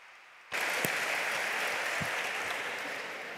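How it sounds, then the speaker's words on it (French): Audience applause at a civil-society talk on testimonies from Venezuela, a sudden dense burst of clapping that starts abruptly and sustains steadily, fairly loud and close, with no talk over it. "Et un applaudissement."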